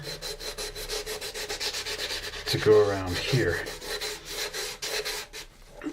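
A thumb sands the plastic hull of an AMT U.S.S. Enterprise model kit for paint prep, giving steady close rubbing strokes in a repeated rhythm while someone talks briefly.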